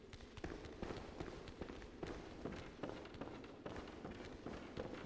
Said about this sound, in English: I hear the pitter-patter of footsteps.